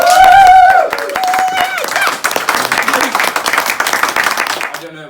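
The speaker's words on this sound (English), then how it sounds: "Give a round of applause." Audience clapping and applauding at a documentary Q&A event, rising after a loud voice and continuing as a quick, dense patter of hands before fading out.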